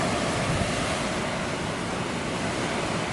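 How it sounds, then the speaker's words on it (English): Wind blowing outdoors in an October garden, a steady broad rushing noise buffeting the microphone, continuous and moderately loud with no voices. "Oh, listen to that wind."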